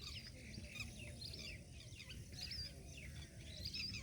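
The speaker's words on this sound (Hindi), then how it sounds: "पक्षियों का कलरव बहुत ही कर्णप्रिय लगता है यहाँ पर" Many birds chirp and call together at Keoladeo National Park in Bharatpur, making a busy, continuous chorus of high tweets over a dense, noisy outdoor background.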